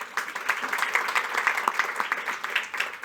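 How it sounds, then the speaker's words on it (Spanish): Audience applause for a speaker introduced at a panel on the silver economy in Chile, steady, moderately loud clapping from a seated crowd throughout. "Un aplauso para Sandra, por favor."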